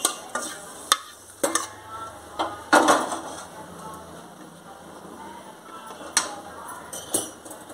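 Dried red chillies fry gently on low heat in a pan, giving a soft sizzle broken by repeated clattering stirs and scrapes of a spoon, close and unvoiced.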